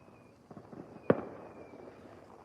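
A single distant New Year's Eve firework bang from a balcony, one sharp pop standing out above a low murmur of background noise, with a faint steady whistle running through.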